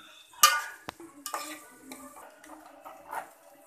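Noodles being stirred in a pan while cooking at home, giving a few soft scraping and clinking strokes with light sizzling, spaced irregularly and fairly quiet.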